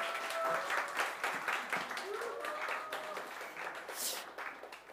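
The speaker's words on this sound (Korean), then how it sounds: "우리 큰 박수로 모시도록 하겠습니다" A church congregation at a Sunday worship service breaks into steady, fairly close applause, many hands clapping together while a voice speaks over the crowd.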